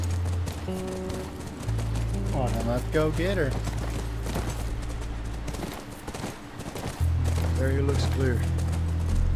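Horse hooves clip-clop in a steady rhythm in the video game The Last of Us near a ranch, close and fairly prominent beneath game dialogue and a low droning music bed.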